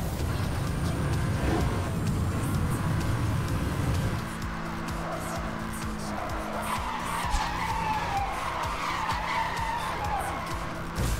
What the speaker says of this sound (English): That was a nice long drift, over 250 meters.